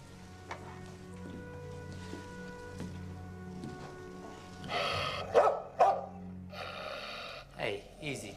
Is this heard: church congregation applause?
no